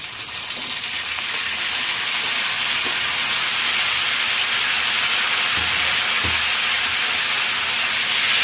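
Chopped onions and tomatoes sizzling in hot oil in a pan for butter chicken, a loud steady hissing fry that builds slightly and holds, with a few faint stirring knocks.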